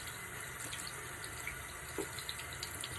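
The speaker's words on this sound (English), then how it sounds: "until there's no more bubbles left, because I want it rinsed out really well" Tap water runs steadily into a sink while paint brushes are rinsed with dish soap, with small splashes and clicks close by and no talking.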